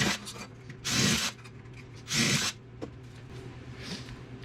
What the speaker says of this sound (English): quickly drill some holes